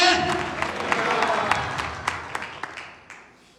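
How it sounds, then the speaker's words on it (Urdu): Applause during a Sunday church service, with a congregation clapping for Jesus in a steady, moderately loud patter that thins out and fades near the end, under some talk. "زوردار تالیاں یسوع کے لیے"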